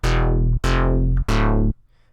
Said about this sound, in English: So we're going to start with a synth that sounds like this